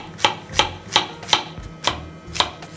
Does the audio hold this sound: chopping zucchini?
yes